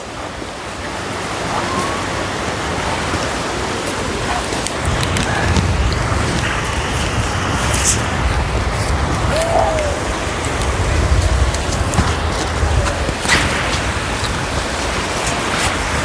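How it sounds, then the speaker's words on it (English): Heavy rain pours down on an open coastal fishing match near Hartlepool, a constant loud hiss mixed with wind buffeting the microphone and the sound of surf. "Pouring the rain"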